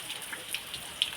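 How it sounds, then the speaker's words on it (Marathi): Heavy monsoon rain during a cloudburst-like downpour in the Konkan region, heard as a soft, steady wash of falling rain with scattered distinct drops striking a surface, fairly quiet and without talk. "ढगफुटीसारखा पाऊस चालू आहे सकाळपासून ढगफुटीसारखा पाऊस आहे."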